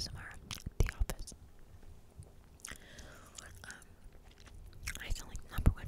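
Gum chewing up close, soft wet smacks and clicks scattered irregularly, with quiet whispered talk between the chews.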